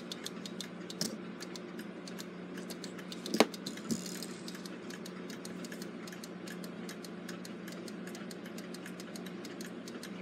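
The escape wheel of a Gilbert long-drop octagon clock ticks softly and evenly, a faint regular mechanical beat with one slightly louder click partway through.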